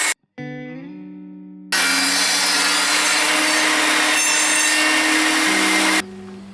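Old timber being cut into square stock for the roof pillars of a wooden bird table, with a power saw spinning up with a rising whine and then cutting loudly and steadily through the wood before winding down at the end.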